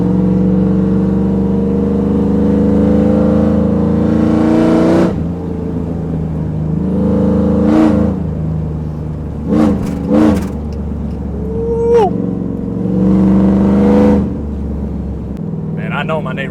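A cammed Chevrolet Silverado single-cab pickup revs in loud bursts, its lumpy idle rumbling steadily between several sharp throttle blips; people talk over the engine at times.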